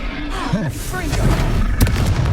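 A Confringo fire-spell blast goes off in Hogwarts Legacy with booming thuds and bursts amid game effects, ending in a sharp crack near the end.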